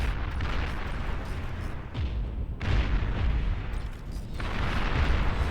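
Units in the real-time strategy game Beyond All Reason trade fire in a messy battle, with dense rumbling booms and bursts of weapon fire rolling continuously, loud and heavy in the low end.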